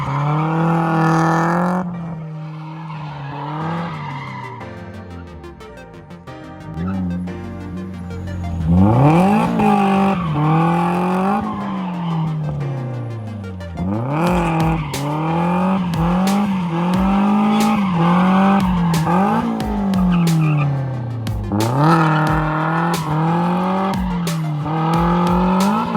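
A Nissan 240SX drifting in large circles with a slightly underpowered engine, revving repeatedly with rising and falling engine pitch and repeated tire squeals, loud and sustained.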